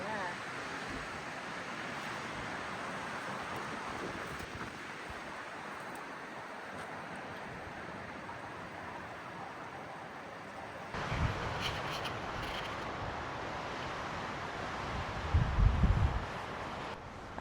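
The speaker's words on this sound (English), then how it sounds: "it's super windy this morning" Steady, roaring wind buffets the microphone throughout at a morning campsite in Rocky Mountain National Park, with stronger rumbling gusts toward the end.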